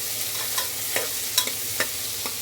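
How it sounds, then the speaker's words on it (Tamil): Mutton curry paste being sautéed in a pan, a continuous close sizzle with soft intermittent scrapes and taps of a stirring spoon. "இதில் நல்லா வதக்கிடணும்"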